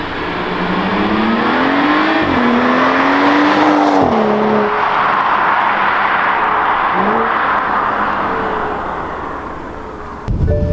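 The engine of a 2013 BMW 135i drones loudly and steadily while driving, its pitch rising through the gears and dipping at shifts, with continuous road and wind noise.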